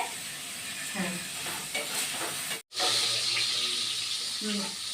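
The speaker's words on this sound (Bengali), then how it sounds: "কাজু আর কিশমিশটা ভেজে নিচ্ছি বন্ধুরা।" Cashews and raisins fry in a pan with a close crackling sizzle and some scraping stirs, broken by one abrupt drop to silence partway before the sizzling resumes.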